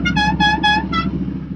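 Horn on a restored Cadillac Brougham beeps four quick times in a row, loud and close over a low idling engine rumble, with no talk.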